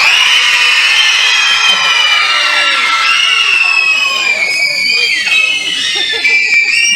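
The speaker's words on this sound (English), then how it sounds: "If you're a kid, if you're under 18, when I count to 3, I want you to scream as loud as you can." Children in a live wrestling event crowd scream loudly and continuously in a high-pitched shrieking roar, with whoops and cheers layered throughout.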